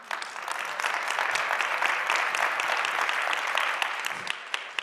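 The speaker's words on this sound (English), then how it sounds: "Let's give another round of applause." A crowd claps continuously at a talk about building a culture of resilience, broad even applause at moderate volume with scattered crisp claps near the close.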